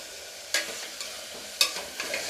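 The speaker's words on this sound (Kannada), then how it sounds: "ಇದನ್ನು ಹಾಕಿ ನಾನು ಚೆನ್ನಾಗಿ ಫ್ರೈ ಮಾಡ್ಕೊತೀನಿ." Chopped vegetables fry in a pan for masala bath, a soft sizzle running throughout, broken by a few close scraping stirs of a spoon against the pan.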